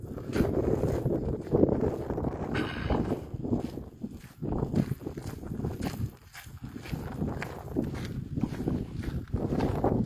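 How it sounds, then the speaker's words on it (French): Gusts of wind buffet a microphone outdoors on a countryside walk in the Morvan, producing uneven, rumbling bursts of low noise that rise and fall repeatedly. "Ah, il y a le vent."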